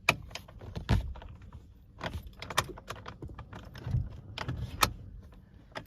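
A key is turned back and forth in the ignition of a 2023 Honda City automatic, giving several sharp metallic clicks and jangles close up, irregularly spaced, with no talking.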